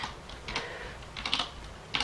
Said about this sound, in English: I should get a quieter keyboard.